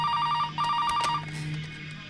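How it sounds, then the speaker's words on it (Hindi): A telephone rings close and loud in a tense Hindi police drama, two quick trilling bursts of electronic ringing separated by a short pause, then fading into low background hum. "फोन बज रहा है"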